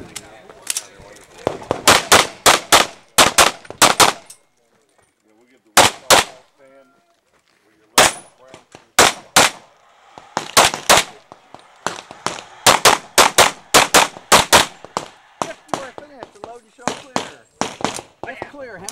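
Gunfire on a practical shooting stage at a double-tap match: loud, close pistol shots in rapid strings and paired bursts, with short pauses between volleys, running for the whole stretch.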